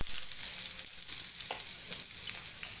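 Onion fries in a spoonful of oil in a pan, making a continuous, even hiss with faint crackles and no talking.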